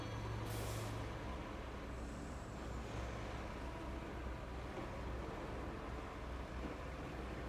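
Heavy truck engine rumbling steadily as it drags through deep mud in the road-building game Road Craft, with a brief hiss of air release near the start and continuous low churning throughout.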